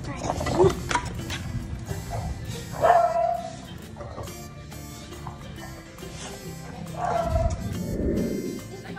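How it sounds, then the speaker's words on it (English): A dog gives a few scattered barks and yips amid background noise, close but intermittent, with no clear speech over them. "Dr. Tara's dog, Francisco"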